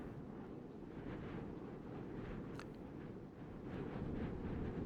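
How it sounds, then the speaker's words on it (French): Wintry wind ambience from the Dome Keeper video game, with snow falling: a steady low rushing blow throughout, swelling slightly toward the end. "Ce petit vent, cette petite neige, ça donne envie d'aller au ski."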